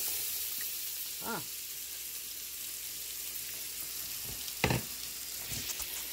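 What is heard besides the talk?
vegetables sizzling in very hot roux for gumbo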